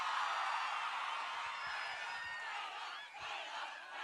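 An audience at the Ponniyin Selvan anthem launch event applauds and cheers in a steady wash of clapping with a few whoops rising over it. The sound is fairly faint and distant.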